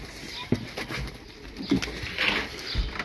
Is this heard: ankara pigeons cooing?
yes